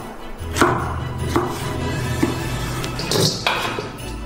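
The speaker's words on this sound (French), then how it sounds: "Et on la coupe d'abord en bandes." A knife chops torched, smoky-flavoured food into cubes on a cutting board, with a few distinct knocks against the board over a steady background hiss.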